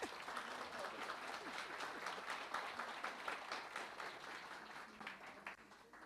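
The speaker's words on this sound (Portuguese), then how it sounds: "Uma salva de palmas, né?" An audience claps throughout at a literary showcase event, a continuous crowd applause that is fairly faint and distant and tapers slightly toward the end.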